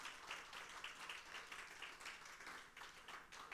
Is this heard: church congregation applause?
yes